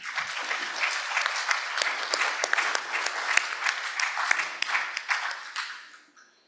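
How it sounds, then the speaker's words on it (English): An audience claps steadily for several seconds, a dense patter of hands that swells and then tapers off at the end. "Please give them a big round of applause."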